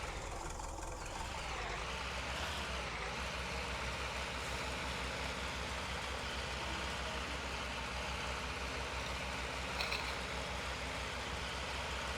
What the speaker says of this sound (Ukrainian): Їдуть трактори.